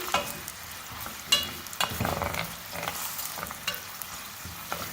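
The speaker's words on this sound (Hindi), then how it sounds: "पहले हम प्याज फ्राई करेंगे मीडियम फ्लेम पर।" Onions fry over a medium flame while being stirred in a pan, with a steady close sizzle broken by repeated scraping and clattering strokes of the spoon.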